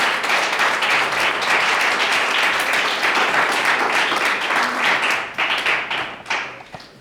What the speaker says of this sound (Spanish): Así que dale palmas y ponte de pie